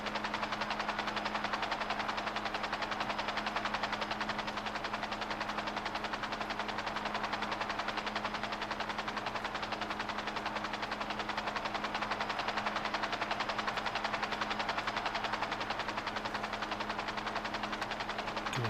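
In a video game, an aircraft flies over a city, giving a steady, unbroken engine drone with a low hum that stays loud and constant for the whole flight, with no speech.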